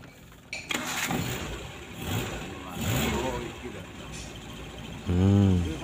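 A car engine cranks and catches near the end, a short loud burst of turning over after several seconds of background noise and talk, on a car being fixed for long starter cranking with a diode added from the starter solenoid.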